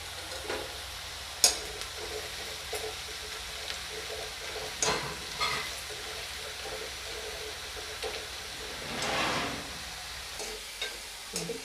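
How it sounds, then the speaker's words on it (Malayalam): Thickly chopped ginger fries in oil for a Kerala sadya curry, a soft continuous sizzle broken by scattered scrapes and clicks of a stirring spoon and a louder rustling stir near the end, close, with no talk. "അരിഞ്ഞു വെച്ചിരിക്കുന്ന ഇഞ്ചി എണ്ണയ്ക്കകത്തോട്ടിട്ട് നന്നായിട്ട് മൂപ്പിച്ചെടുക്കാം."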